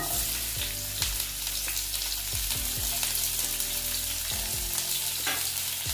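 Chopped onion fries in hot oil with a constant bright sizzle and crackle, close by. Faint repeated low thuds and utensil taps sound beneath it.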